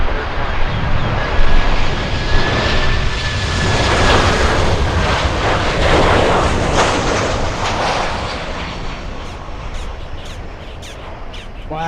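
An American Airlines jet lands at Miami International Airport, a loud, sustained engine roar and rushing noise filling the whole stretch and slowly fading toward the end.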